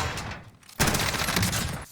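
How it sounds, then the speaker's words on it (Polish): Rapid hip-fire gunshots ring out in the video game Call of Duty Warzone, a loud continuous burst of automatic fire after a brief quieter lead-in, with another shot starting right at the end. "To są moje strzały z biodra."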